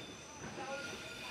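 A heritage passenger train linking towns across central Vietnam runs along the rails, giving a steady broadband rumble with faint high wheel squeal, close and continuous and without talk.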